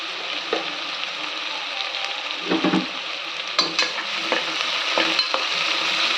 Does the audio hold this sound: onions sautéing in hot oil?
yes